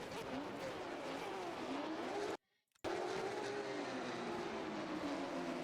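Race car roaring down a straight at full throttle, a loud, continuous engine drone with rising pitch, briefly cut out in the middle, no voices.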